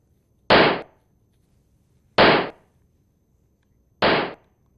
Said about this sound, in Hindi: पिस्टल से बेखौफ बीच सड़क पर फायरिंग कर रहा है